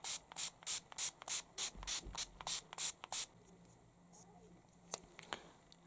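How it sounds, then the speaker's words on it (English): A dewy setting mist spritzed onto a face in a row of about ten quick, close, even pumps, followed by soft rubbing and a couple of faint taps in a quiet room. "I'm just gonna go in with my dewy mist."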